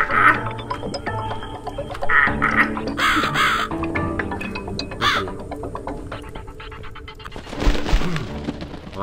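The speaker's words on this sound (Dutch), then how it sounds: "Een vogel." A bird calls in The Cat Lady video game, giving a few loud, harsh crow-like caws over a droning, eerie backdrop in a house in the woods, with a deep boom near the end.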